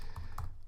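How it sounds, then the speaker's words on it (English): Quick clicking keystrokes on a computer keyboard, a few close taps in rapid succession, heard alone and fairly clear. "I'm so bad at this typing stuff,"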